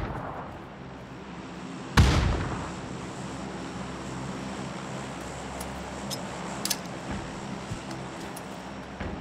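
A grenade blast in the video game PUBG lands as one sharp, heavy boom that rolls off into a fading rumble over steady background ambience.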